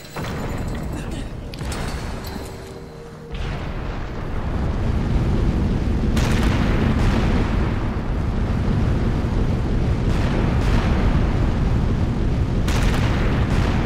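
Grenade launcher explosions in Resident Evil 5, with several heavy booms bursting out of a loud, rumbling wash of game combat and sustained low roar.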